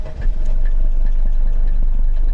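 A Mercedes 190 2.5D diesel engine idles steadily and keeps running with the ignition switched off, giving a continuous low clattering rumble that is close and loud, with no talk.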